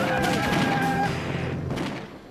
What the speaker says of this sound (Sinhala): ඒ වුණාට මේගොල්ලෝ කවුද බොයි වගේ වෙඩි තියන්නේ?